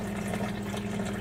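The last of the liquid from cannabis butter being made, trickling through a strainer in a kitchen as a close, steady, continuous pour of water.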